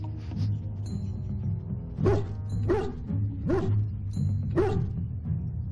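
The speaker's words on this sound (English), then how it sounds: "Ah, great, dog." A dog in Dragon Age: Origins lets out four or five sharp, evenly spaced barks, loud and close over a low game-ambience hum, with a few faint whimpers at the start.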